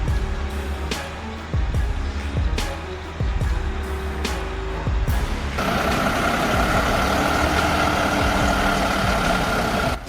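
A 180-ton heavy haul truck crawls under load through a tight curve, its deep engine droning loudly and steadily with rhythmic knocks and clanks early on, then settling into a continuous heavy roar.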